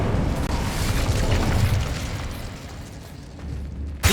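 Incendio fire spell cast in Hogwarts Legacy, a loud roaring burst of fiery, booming noise that fills the clip and slowly fades, with a fresh sharp hit right at the end.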